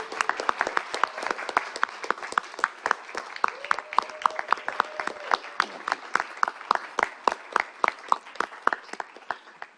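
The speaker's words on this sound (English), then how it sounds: "So please join me in a round of applause and a thank you to our colleague Max." Sparse applause for a colleague at a youth entrepreneurship challenge, individual claps ringing out in a fairly regular, moderately distant pattern from a small group, with a faint voice murmuring underneath.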